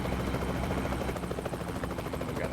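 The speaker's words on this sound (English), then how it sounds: "chopper going on." A helicopter in the trucking video game American Truck Simulator thunders steadily overhead, its rotor chop loud and continuous throughout with no break or fade.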